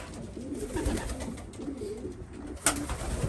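Pigeons kept by a breeder coo softly in a loft, with a steady low murmur of overlapping calls and one brief sharper sound near the end, with no speech.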